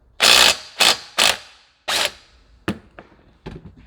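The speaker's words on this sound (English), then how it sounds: "Take our axle nut loose." A ratchet wrench loosens the axle nut on a Burromax minibike: four loud bursts of rapid ratcheting clicks close up, then a few softer separate clicks and taps.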